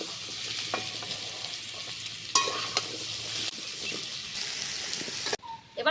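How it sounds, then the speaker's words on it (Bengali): Potatoes frying in oil in a kadai give a continuous close sizzle, broken by scraping stirs and a sharper hiss midway; the frying drops away near the end as a metallic clink takes over. "কড়াতে আমি তেল দিয়ে দিচ্ছি আলুটাকে ভেজে নেব"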